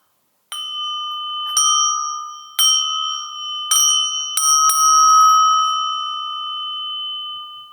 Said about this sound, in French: Ça aussi c'est une cloche. J'ai l'impression que c'est une cloche aussi.